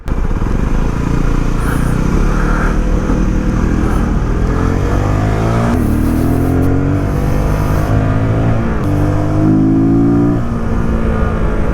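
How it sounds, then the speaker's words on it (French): A motorcycle engine revs up and down repeatedly, loud and close, with a throaty intake roar rising in pitch through several throttle blips. "c'est pas le son du moteur je pense que j'entends, c'est plus le son de l'admission"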